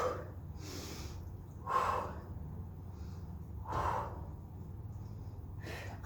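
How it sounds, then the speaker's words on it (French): Exercise breathing during a gym workout: three strong breath bursts, one near the start, one at about two seconds and one near four seconds, each standing out from a steady low background hum. "On souffle devant, on inspire derrière."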